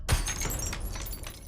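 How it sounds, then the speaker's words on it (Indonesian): A glass picture frame drops and shatters, a sharp crash at the start followed by a sustained noisy wash of scattering, rattling fragments, fairly close with no voices. "menjatuhkan sebuah benda yaitu bingkai kaca yang menimbulkan suara bising"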